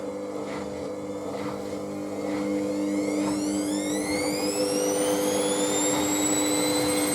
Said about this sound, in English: Someone said this machine reminds them of a Hoover when it tumbles.